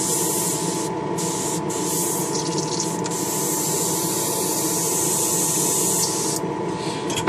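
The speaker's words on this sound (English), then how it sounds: "blow some alcohol through the airbrush real quick, just to clear the color" Alcohol blown through an airbrush to clear out paint, a steady, loud, close spraying hiss that runs continuously with slight changes in airflow and no talking.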